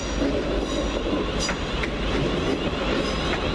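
A Class 350 electric train pulls away toward Northampton with a steady rumble and rail noise, a few faint wheel clicks and squeals over the constant roar.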